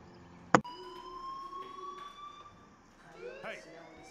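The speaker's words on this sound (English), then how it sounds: "Hey, do you hear that fire alarm?" Electronic fire alarm in the video game Life is Strange, a steady high tone that rings continuously after a sharp click, with faint game ambience and brief voices near the end.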